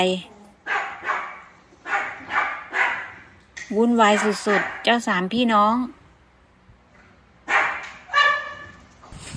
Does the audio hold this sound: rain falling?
no